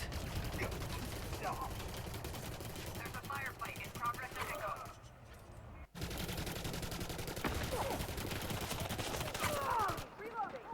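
Eclipse weapon firing in Elite Dangerous: Odyssey, a rapid stream of sharp gunfire bursts with an energy whine, loud and continuous across the clip with brief pauses, set against busy game combat noise.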